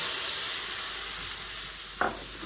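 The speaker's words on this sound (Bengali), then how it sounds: "এবার আমি এর মধ্যে দিয়ে দিচ্ছি পরিমাণ মতো জল।" Water goes into a pan of spiced soybeans that had been cooking in the masala, setting off a loud steady sizzle and hiss with a short burst of splashing near the end.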